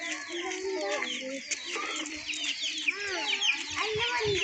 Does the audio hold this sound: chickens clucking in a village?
yes